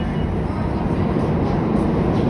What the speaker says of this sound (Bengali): এটি হচ্ছে new York subway B train.